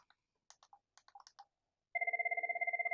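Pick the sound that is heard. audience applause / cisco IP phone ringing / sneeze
cisco IP phone ringing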